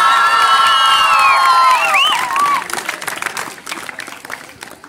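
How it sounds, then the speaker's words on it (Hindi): Students and audience at a school quiz competition applaud and cheer for a quiz team, with children whooping and shouting loudly over clapping at first, then the cheers fade into sustained applause. "इनके लिए जोरदार तालियां"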